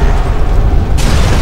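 A heavy explosion in the Sniper Elite 3 war video game, a loud sustained rumbling blast with a dense low roar that swells again near the end, with no talk.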